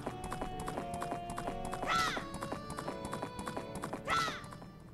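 Rapid rhythmic hoofbeats of a galloping horse with two whinnies, over a faint musical background, from The Legend of Zelda: Majora's Mask game audio.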